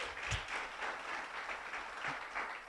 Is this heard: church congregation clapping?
yes